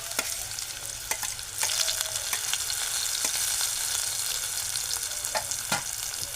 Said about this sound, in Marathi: परतून घेऊ आपण